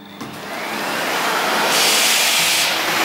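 A repaired vacuum cleaner switches back on with a steady broadband roar that rises and grows louder, running close and alone without talk.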